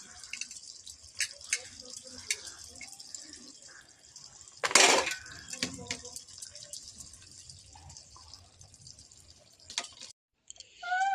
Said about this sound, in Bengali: রান্না বান্না করে যে এখন বাসন মাজছি